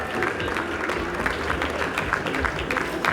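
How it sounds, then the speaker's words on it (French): Steady applause from a crowd, dense clapping sustained throughout at moderate loudness. "Gilles Touré, d'abord Patéo, je demande d'applaudir"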